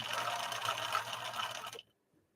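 A Viking 6020 sewing machine stitches in a quick, steady mechanical whirr, close and moderately quiet, then stops abruptly into silence.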